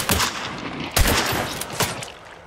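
Gunshots ring out in the Hunt: Showdown video game, a few sharp, loud cracks spaced about a second apart with echoing tails, and no talking.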